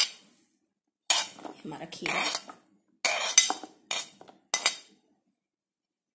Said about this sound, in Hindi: इसमें एक खीरा डाल देंगे